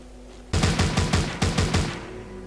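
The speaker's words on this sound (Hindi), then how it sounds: "भाई ये गन फायर है भाई, ये गन भयंकर है, देख लो" Gunfire in the mobile zombie shooter Walking Zombie 2: a rapid burst of about eight loud, close shots in quick succession, with a brief gap midway before the volley resumes and then fades into a low ambient hum.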